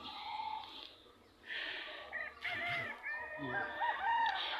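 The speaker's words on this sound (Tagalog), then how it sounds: "Ayan siya, yung mga manok ko." Chickens cluck and a rooster crows outdoors, with layered calls from several birds over steady background noise.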